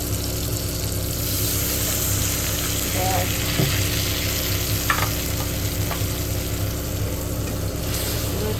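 Chicken cooking in a pan sizzles loudly and steadily as water goes in, a dense continuous hiss with a few brief clinks, with no talking.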